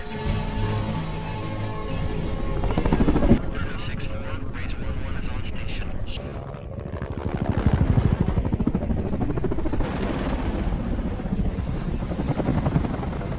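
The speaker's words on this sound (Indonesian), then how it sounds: "Helikopter yang membawa pasukan akhirnya terbang." A military helicopter carrying troops takes off and flies in the war film Lone Survivor, its rotor roar loud and continuous under a dense cinematic soundtrack, with voices speaking over it.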